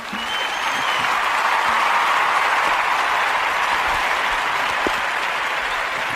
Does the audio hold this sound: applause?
yes